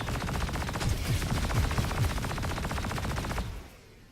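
Rapid automatic gunfire in Star Citizen, a video game, as a steady, loud stream of shots rattling for about three seconds before cutting off and fading away.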